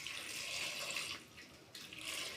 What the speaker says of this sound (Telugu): ఎక్కువ నీళ్ళు పోయకూడదు దీంట్లో,